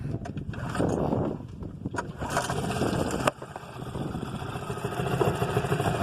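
A small cottage boat's outboard motor runs after a pull-cord start with the choke out. It chugs close and steady with some wind noise, and one sharp knock partway through.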